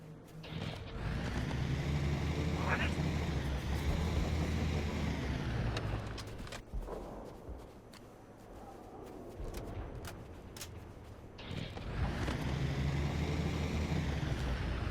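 Helicopter in the video game Halo 3, a loud steady rotor and engine drone that holds through most of the stretch, dips and thins in the middle, then swells back up near the end.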